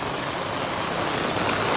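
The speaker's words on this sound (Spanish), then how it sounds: "Miren qué rica la lluvia, amigos." Steady rain pours on an afternoon in Huajuapan, Oaxaca, a dense, even hiss of drops on surfaces that stays loud and unbroken with no voices.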